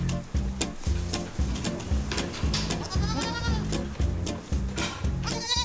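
Goats on a Vercors farm with a herd of about forty bleat repeatedly, several overlapping wavering calls close by, mixed with rhythmic farm clatter and background thumping.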